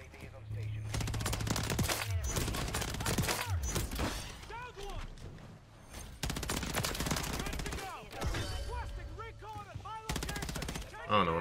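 Rapid bursts of automatic gunfire in Call of Duty MW3 ranked play, loud dense volleys broken by short pauses, with a player talking over the shooting.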